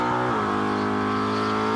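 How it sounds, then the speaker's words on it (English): A burnout car with a blown engine holds a loud, droning idle, its rough harmonic roar dipping slightly in pitch early on and then staying steady, with tyres spinning under a constant crowd-and-engine wash. "Just letting that blown engine idle around and keep turning the tyres."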